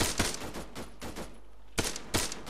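Sharp video game gunshots crack in a burst of about six close, loud reports, spaced unevenly with a brief lull before the last pair, with no voices heard.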